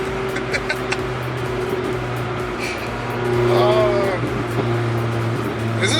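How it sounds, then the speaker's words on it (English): A 1935 hot rod engine droning at a steady pitch, then rising in a brief rev blip during a downshift before settling back, heard close with a mechanical hum throughout. "Here's a downshift."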